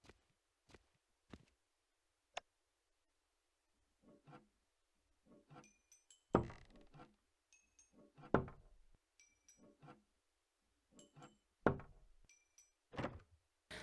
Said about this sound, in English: use the hammer on the door to the left